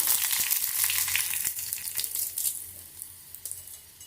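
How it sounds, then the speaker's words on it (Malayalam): Steady, crackling sizzle of mustard seeds frying in hot coconut oil, with scattered sharp pops, close by and continuous throughout. "വെളിച്ചെണ്ണ ചൂടായിട്ടുണ്ട് കടുക് ചേർത്തിട്ടുണ്ട്"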